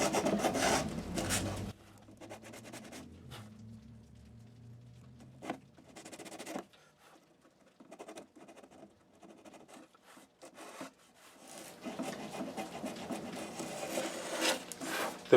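A leather-covered tongue depressor sands the bridge slot of a 1940s Gibson J-50 acoustic guitar, giving dry rasping strokes in bursts. The rubbing is loudest at the start and end, with quieter scraping in between, and no voices.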